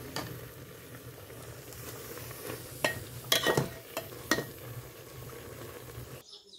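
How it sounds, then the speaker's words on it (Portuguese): Beans being stirred in a cooking pot for lunch at a country home, steady soft scraping and bubbling with a few sharper clinks of the spoon against the pot, near and moderately quiet, no speech. "É só dar aquela misturada, ó. E aí acrescentar mais feijão pra ficar a quantidade aqui que eu quero."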